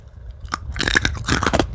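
Close, crisp crunching as dried, dehydrated okra is bitten and chewed, several sharp brittle bites followed by steady munching, with no talk over it.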